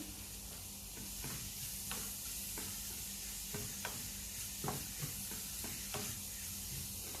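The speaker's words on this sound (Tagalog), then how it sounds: "Haluin lang siya ng maigi." Mushroom, carrot and bell pepper are stirred in a frying pan over a low flame. A steady soft sizzle runs throughout, broken by regular scraping strokes of the spoon, with no talking.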